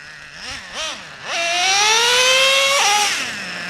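A Traxxas Revo 3.3 nitro RC truck engine, running rich and still cold, gives a couple of short buzzes, then revs into a loud, high, rising whine that holds for over a second before dropping back.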